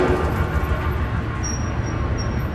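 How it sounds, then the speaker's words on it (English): A train passes in the horror video game Amnesia: A Machine for Pigs, a steady, loud, low rumble filling the whole stretch, with a faint high metallic whine near the end. "Oh, there's a train."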